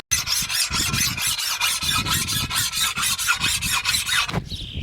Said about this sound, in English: it's been about 20 minutes of sharpening